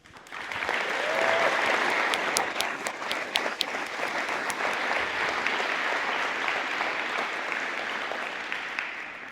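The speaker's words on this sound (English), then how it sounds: "please join me for a round of applause" An audience claps warmly for several seconds, building quickly and then holding a steady, full roar of applause with a few sharp individual claps standing out.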